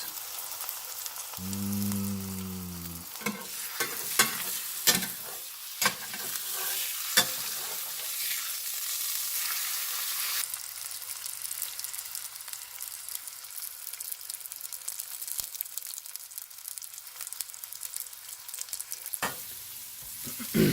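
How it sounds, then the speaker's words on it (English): Steak-umm sliced beef sizzles and crackles in a greasy hot pan, a steady hiss broken by occasional stirring clanks and scrapes. "Frying meat."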